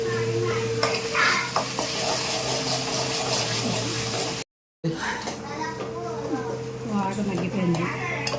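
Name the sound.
onion paste and chicken masala frying in a pan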